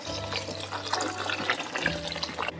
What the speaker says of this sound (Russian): Заливаю все чистой холодной водой.